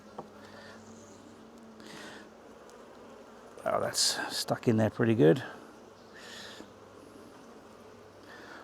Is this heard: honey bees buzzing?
yes